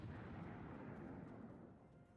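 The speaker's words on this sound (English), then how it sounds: "Why are there still explosions going on?" A continuous low rumble of explosions in the Star Trek Online video game, a muffled roar that slowly fades.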